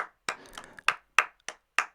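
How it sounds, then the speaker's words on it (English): Five or six sharp hand claps ring out at uneven intervals close to the microphone during a home live-stream music lesson, each a crisp isolated snap with a short tail and near-silence between. "I don't know if you can hear my claps."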